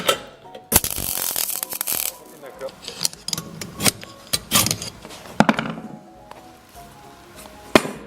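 A Precious Plastic plastic shredder turns its cutting mechanism, giving close, irregular ratcheting clicks, knocks and grinding crunches with sharp bursts throughout, at moderate loudness with no voices.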